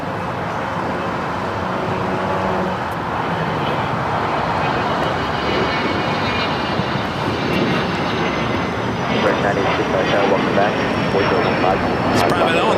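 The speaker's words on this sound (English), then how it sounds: "It's private owner of this BAE 125-700A. Heading on out of here." A 42-year-old BAE 125-700A private jet departs LAX, its engine roar a steady broad whoosh that swells slightly toward the end, with someone talking over it.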